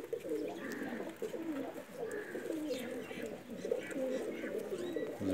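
Low, repeated cooing from several desi-style Pakistani pigeons at once, steady and close, with faint chirps and background chatter mixed in.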